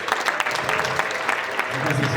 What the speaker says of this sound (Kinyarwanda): reka tubonere amashyi cyane